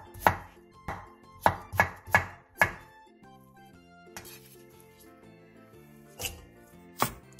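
A knife cuts diagonally through a halved cucumber on a cutting board in a run of crisp, quick chops, then pauses before a few more cuts, all close and clear.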